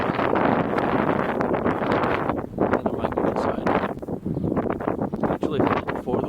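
Wind gusting outdoors on a hot day, buffeting and rustling loudly against the microphone in uneven bursts, with a person speaking underneath.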